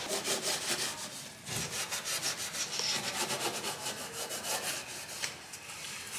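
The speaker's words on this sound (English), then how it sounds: "we're just sanding off whatever rust was here so we can fully restore that" Sandpaper scrubbing rust off a car engine bay, a rapid steady back-and-forth rasping with even strokes and a brief pause, close and continuous without any talking.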